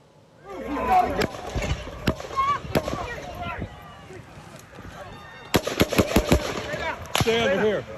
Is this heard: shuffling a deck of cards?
no